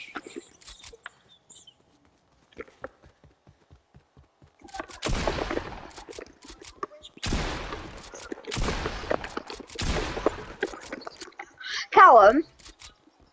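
Double pump shotgun blasts in Fortnite Bedwars, four loud broadband shots in two pairs roughly a second apart, separated by quiet stretches with faint game noises, then a brief tonal chirp near the end.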